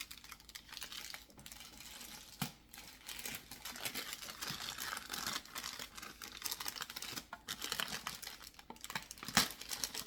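Thick plastic blister packaging and packing tape being handled and torn open around a 2021 Matchbox 2019 McLaren 720 Spider diecast car, close crinkling, crackling and sharp tape rips running continuously with no talk.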